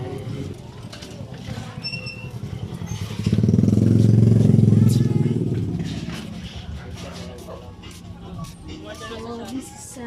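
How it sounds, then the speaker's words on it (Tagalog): A 1997 Nissan engine revs up, swelling into a loud, rough roar for a couple of seconds before settling back to idle, with people talking nearby throughout. "So this is engine. Nissan."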